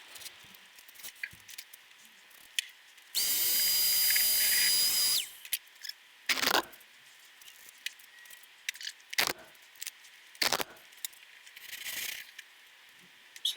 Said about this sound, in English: so now I'm gonna drill the holes up through the ceiling of the garage